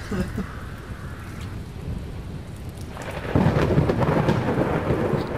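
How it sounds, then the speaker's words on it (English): Steady rain in a VR video game city street hisses throughout with low rumbling thunder, and the downpour swells noticeably louder partway through, becoming a heavier, denser roar. "Now it's raining."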